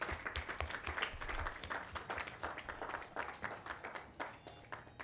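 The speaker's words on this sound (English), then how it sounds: "First, give them a round of applause." An audience at a youth upskilling launch event claps for vocational training institutions, giving quiet, fairly distant applause with many overlapping hand claps in a brisk, steady patter.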